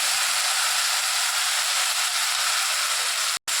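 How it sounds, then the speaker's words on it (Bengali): Spice paste with nigella seeds goes into hot mustard oil in a wok, giving a loud, even, continuous hiss that cuts out abruptly near the end. "কালো জিরার সঙ্গে পেস্ট করা মশলাটা আমরা এখানে দিচ্ছি কড়াইয়ে"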